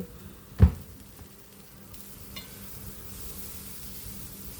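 Ginger-garlic spice paste fries in hot oil for moong dal, with one sharp scrape of a spoon early on, then a steady low sizzle that carries on quietly with no voices.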